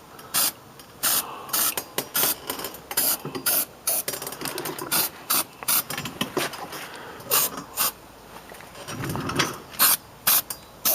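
Weld-through primer sprayed from an aerosol can in short thin bursts onto a car repair panel, each hiss close and brief with small gaps, mixed with light scraping and handling noises.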